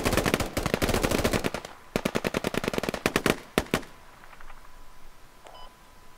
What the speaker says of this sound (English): Sounds like 2 AKs at least.